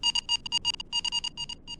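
Electronic beeping inside a Type VIIC/41 submarine in the UBOAT game, a rapid irregular series of short, bright tonal pips, loud and close, with brief gaps between clusters.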